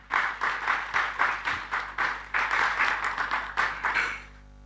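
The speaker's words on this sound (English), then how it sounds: "could you kindly just give a round of applause, first of all," Audience at a forest heritage conference applauds the panel with steady, dense clapping in rhythmic swells that fades out at the end.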